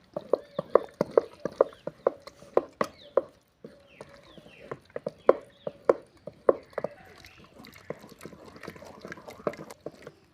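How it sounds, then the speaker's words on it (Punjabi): A wooden masher pounds cooked saag in a pot with a quick, rhythmic run of soft wet thuds and knocks, close up. The beat pauses briefly midway, then carries on unevenly. "ਘੋਟਣੇ ਦੇ ਨਾਲ ਆਪਾਂ ਇਹਨੂੰ ਘੋਟ ਲਾਂਗੇ"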